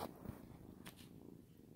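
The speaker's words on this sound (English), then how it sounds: "Can you hear the purrs now?" A cat purrs softly and continuously at close range, a low rumbling drone with faint rustling, quiet and alone without talk.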